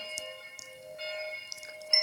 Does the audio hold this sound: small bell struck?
yes